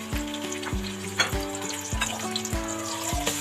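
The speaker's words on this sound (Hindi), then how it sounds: "मैं इसके अंदर ना प्याज को डाल के फ्राई कर लूंगी।" Finely chopped onions fry in oil in a kadai with a constant sizzle, broken by repeated ringing clanks from stirring at a regular pace, close by with no talking.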